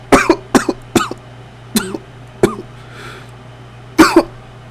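A man coughs after taking a drag from a cigarette, letting out a series of sharp, close coughs in uneven bursts, several quick ones together, then a pause and a final harsh cough.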